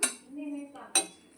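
A steel plate clinks twice in a quiet kitchen while chicken liver fry is being mixed, two bright metallic taps with a softer rattle between them.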